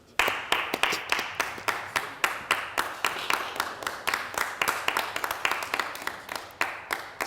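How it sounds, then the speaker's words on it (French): A studio audience on a Burkina Faso television variety show applauds a veteran film actress with about forty years in cinema, steady clapping filling the whole stretch, dense and close, without talk. "Merci de l'applaudir"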